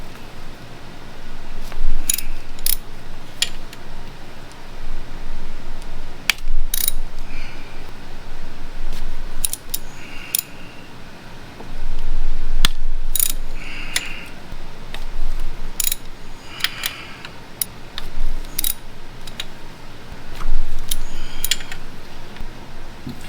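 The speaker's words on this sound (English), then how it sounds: "Now we're gonna loosen one by one, but first we're gonna crack all the bolts." A ratchet with a T30 bit cracks loose bolts on a BMW N55 engine during an eccentric shaft and Valvetronic install. Close, irregular bursts of sharp clicks come with short pauses between, and no one speaks.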